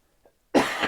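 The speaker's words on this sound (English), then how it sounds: "I can't stop coughing." A single harsh cough bursts out near and loud after a faint breath, from a person during a live guitar stream about Les Paul pickups.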